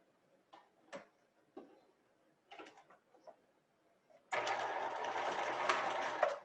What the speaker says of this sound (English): we're just going to run our sewing machine down that stitch line